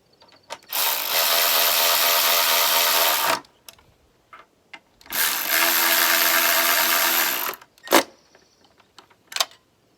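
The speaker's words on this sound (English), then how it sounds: "electric ratchet." An electric ratchet tightens bolts on a Mini Cooper S during an oil leak repair, giving two sustained whirring runs of about two and a half seconds each, close and loud, followed by a few sharp clicks and knocks.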